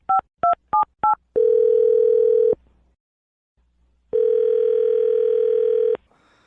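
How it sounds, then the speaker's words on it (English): A telephone number is dialed with four quick keypad tones, then two long, steady ringing tones separated by a short silence, clear and close with no talking. "I'm going to dial her phone number right now"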